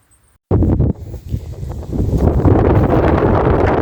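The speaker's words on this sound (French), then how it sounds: "Je suis désolé, il fait beaucoup de vent." Strong mountain wind buffets the microphone, bursting in abruptly after a brief near-silence and then roaring as a loud, continuous low rumble with gusty surges and no voices.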